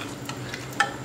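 Egg gravy (muttai kuzhambu) simmers in a pan with a faint, steady bubbling and soft sizzle, broken by a few light clinks.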